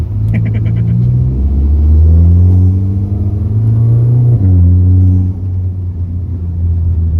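A Proton Wira fitted with a VW Golf DSG engine accelerates hard from close range, its loud engine note climbing through gear changes with a brief drop partway, running steadily from start to end.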